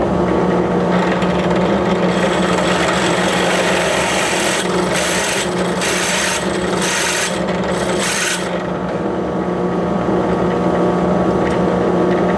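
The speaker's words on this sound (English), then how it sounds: "This is a 3/16 drill bit." A power drill with a 3/16 bit machining a screw post for a DIY box mod enclosure, grinding steadily and loudly with several brief pauses midway.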